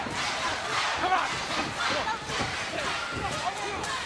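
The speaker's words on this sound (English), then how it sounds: "And the crowd in attendance, very vocal" A wrestling crowd at the Impact Zone arena during a TNA women's match roars and cheers continuously and loudly, with voices mixed into the dense noise.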